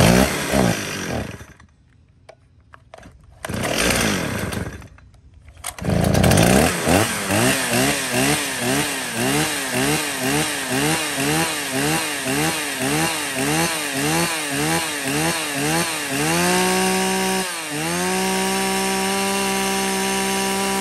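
A STIHL professional logging chainsaw sputters through a few start attempts, then revs in a steady pulsing rhythm before settling into a sustained, loud high-pitched drone while cutting wood, close to the listener.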